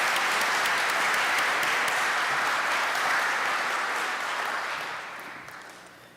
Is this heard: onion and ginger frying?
no